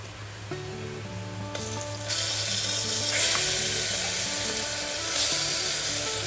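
Marinated beef dropped into a hot pan for vindaloo, hissing into a louder sizzle that continues steadily after the meat goes in, with some clinks from utensils.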